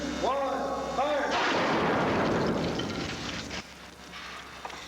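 A test missile slams into a target of steel-reinforced concrete faced between two brick walls, a massive roaring impact with crumbling debris that fades to scattered rattles, following a brief electronic warble at the start.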